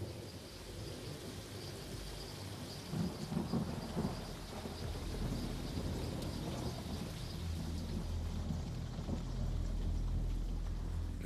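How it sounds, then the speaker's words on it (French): A thunderstorm at night in the Congo, with steady rain hissing and rolling thunder rumbling through, a few louder crackling surges midway, and the low rumble swelling near the end. "Il y a d'abord eu quelques gouttes, puis cet orage s'est abattu sur moi."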